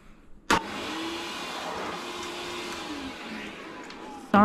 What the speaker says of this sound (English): I am going to use this blow dryer to blow the table off real quick